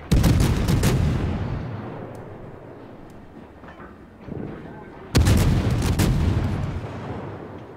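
Naval guns fire in World of Warships, a heavy booming salvo opening loud and rolling off into a long low rumble, then a second big salvo hits again after a pause, close and forceful.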